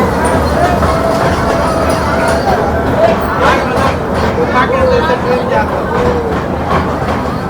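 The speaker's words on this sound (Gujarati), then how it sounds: "ગુફામાં ટ્રેન આવી ગઈ." A train rumbles through a tunnel in Ahmedabad near Kankaria, with a steady, loud, enclosed roar filling the whole stretch and the babble of people talking faintly beneath it.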